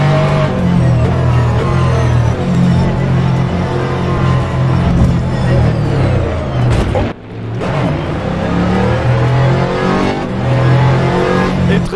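An Aston Martin Vantage GT3 engine roars loudly in rFactor 2 at Watkins Glen, holding a sustained racing drone that shifts pitch through gear changes and briefly dips near the middle of the run.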